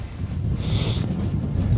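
Steady wind blowing beside a river while fishing for grayling, a continuous low broadband rush and buffeting close to the microphone, alone without talk.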